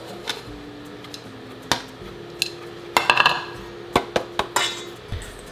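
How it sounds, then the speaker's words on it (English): Butter grated on a metal cheese grater while making biscuits, giving a run of sharp scraping and clinking strokes in an irregular rhythm, close and fairly loud, with no talk. "Today, I'm going to grate it with a cheese grater"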